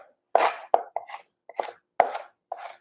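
A knife slices carrots on the bias, giving about six crisp, close chops at an uneven pace with quiet gaps between them, and no talking.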